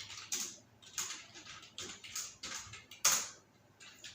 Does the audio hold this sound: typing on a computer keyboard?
yes